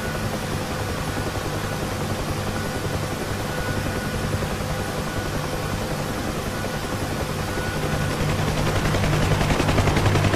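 A UH-1H Huey helicopter takes off in the DCS flight simulator, its dense rotor chop and turbine roar loud and continuous, swelling slightly toward the end as it transitions to forward flight.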